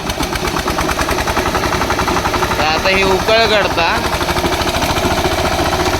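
A tractor engine chugs loudly and steadily in a fast, even knocking rhythm, while someone speaks briefly over it.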